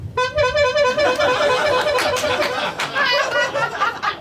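A loud, warbling horn-like alarm repeats in rapid pulses during a stand-up comedy set in a tavern, with a voice chattering and laughing over it.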